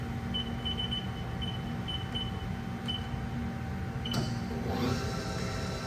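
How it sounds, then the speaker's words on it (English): The spindle of a 2023 Haas ST-20 CNC turning center with live turret runs at low speed. It gives a steady machine hum with faint repeated beeps and a rising whir as it spins up near the end, and no one speaks. "And then of course, we'll run the spindle."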